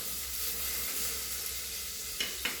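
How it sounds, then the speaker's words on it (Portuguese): Pork fat melts in a cooking pot as it is stirred, giving a soft continuous sizzle close by, with two light scrapes of the spoon near the end. "sempre dando uma mexidinha para a gordura não grudar no fundo da panela"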